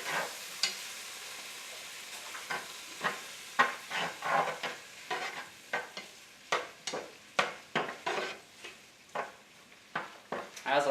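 Pasta is stirred in a pot over low heat as butter melts, a run of repeated scraping and clinking spoon strokes in an uneven rhythm against quiet background sizzle.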